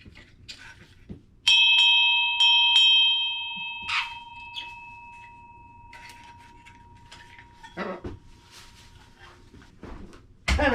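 A partly melted bell rings in several bright metallic strikes with long sustained tones, then fainter knocks and clatter follow, fairly close and alone.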